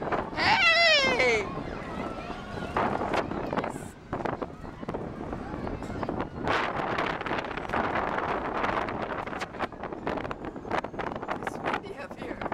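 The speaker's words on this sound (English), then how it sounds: "It's windy up here." Wind buffets the microphone in steady rumbling gusts high up at an amusement park, continuous throughout and mixed with people talking nearby.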